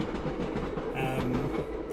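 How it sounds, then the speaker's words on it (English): An old London tube train rumbles past at a moderate distance, with a steady low clatter of wheels and carriages lasting throughout, no voices over it. "Here goes our friend the train once again."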